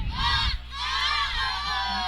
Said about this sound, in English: as you can hear, the fans, young men behind us, are cheering on their schoolmates, buddies, brothers